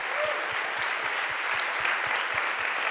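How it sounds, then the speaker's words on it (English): A large audience applauds panelists at the close of a panel discussion event, a dense, steady wash of clapping that fills the whole stretch without any talk over it. "I want to give us a final round of applause to our fantastic panelists."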